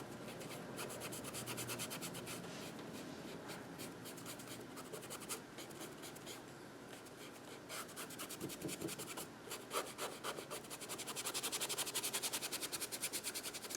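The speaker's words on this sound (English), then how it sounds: "This is a great little brush for scrubbing." A small paintbrush scrubs black paint across an art journal page in quick, dry, scratchy strokes, close and quiet, continuing steadily without talking.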